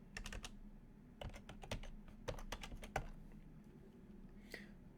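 Quick bursts of typing on a computer keyboard, close and fairly quiet clicking keys in short runs with brief pauses, under a soft steady hum.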